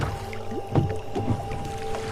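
A boat being rowed on a river, with soft water splashes and paddle strokes over a steady low hum, fairly close and without talking.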